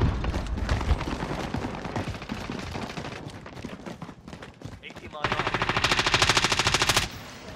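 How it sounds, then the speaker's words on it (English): Call of Duty: Warzone gunfire rattles in dense automatic bursts throughout, loud and sustained, with a heavier continuous volley near the end; players talk over the shooting. "Who are you shooting at, Grant?"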